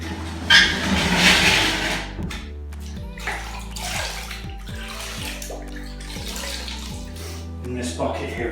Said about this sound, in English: In this bucket here is just clean water that I'm using to get as much adhesive off the tiles as I'm going